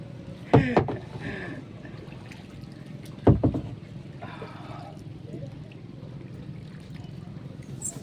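Two distinct splashes of a boat or paddle moving through water, with a quiet watery background and faint voices between.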